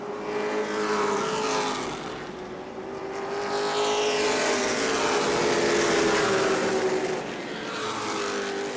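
Pro late model race cars roar around a track at a New Smyrna summer event, their engines rising and falling in waves as they pass and recede.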